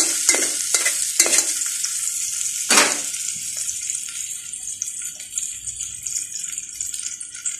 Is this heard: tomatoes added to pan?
yes